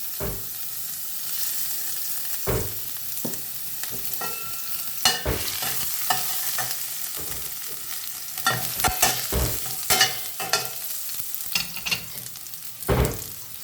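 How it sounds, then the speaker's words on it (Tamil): Ginger and garlic sizzle steadily in olive oil in a pan while a utensil scrapes and stirs, with sharp clinks and louder crackles breaking through at irregular moments. "இப்போ அதுக்கு இஞ்சி பூண்டு போடுறோம்."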